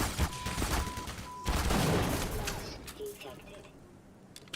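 Automatic turret gunfire in the Black Mesa game, a cluster of rapid shots in the first seconds under a busy mix of game sounds, then fading to quieter scattered noises.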